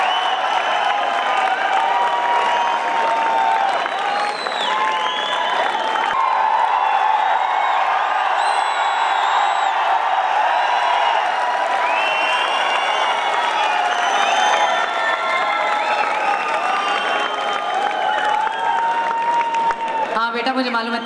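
An audience at a wellness business event applauds and cheers continuously, with dense clapping, whoops and shouts at full volume and voices mixed throughout.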